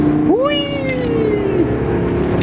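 A Super Duty pickup truck accelerates on a bumpy gravel road in Mexico, with a steady rumble of road and engine noise inside the cab and a whining tone that rises and then slowly falls.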